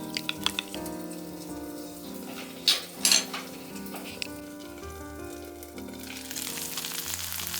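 Food for a nanban marinade pan-fries with a steady, close sizzle and crackle, broken by a few louder spitting bursts midway, with no talking.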